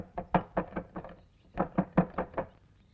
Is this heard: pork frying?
no